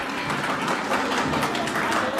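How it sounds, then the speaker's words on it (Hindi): A school prize distribution day audience applauds to welcome a prize winner, with dense and fairly loud clapping and faint crowd murmur beneath. "तालियों के साथ इस्तकबाल कीजिए।"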